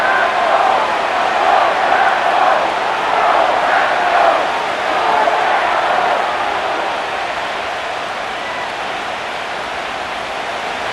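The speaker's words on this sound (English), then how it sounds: "This crowd into it now as we get to 3rd down." A simulated stadium crowd roars in Madden NFL 25 on PS5 during a Minnesota Vikings versus Green Bay Packers game at third down: a dense, steady wash of cheering that swells early, then eases slightly and holds.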